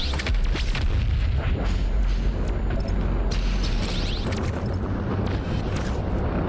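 The BFG 10,000 fires in the video game Doom Eternal, a massive, rumbling boom with heavy low-end roar that sustains for several seconds, layered with crackling debris and mechanical clatter.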